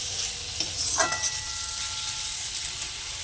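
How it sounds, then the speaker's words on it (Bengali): Spices sautéing in fish oil in a pan, giving a steady close sizzle with soft stirring scrapes and a few brief clinks, alone without voices. "মাছের তেল দিয়ে ভালো করে আমি মশলার সাথে কষিয়ে নেব"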